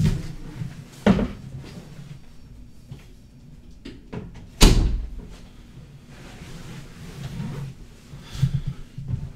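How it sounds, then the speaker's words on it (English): A door being shut indoors in a home, heard as a few soft knocks and a single firmer thump, near and alone with quiet room noise between. "Let me briefly close the door."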